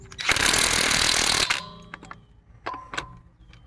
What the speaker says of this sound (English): Got my 21mm socket here with my Ryobi impact